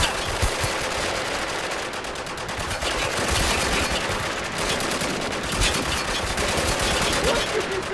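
Sustained automatic gunfire from a modern military shooter, Spec Ops The Line on PC, with rapid dense bursts running continuously and loudly throughout, under occasional speech.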